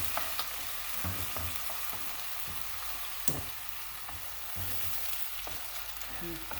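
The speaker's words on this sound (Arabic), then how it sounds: "انا نشتي نحمر الدجاج، اي حاجه نحمرها نشتي باه تعطيني البنه هذيك تاع الدجاج محمر" Chicken pieces frying with onion in a pan give a steady, close sizzle, broken by occasional knocks and scrapes as they are stirred, with no talking.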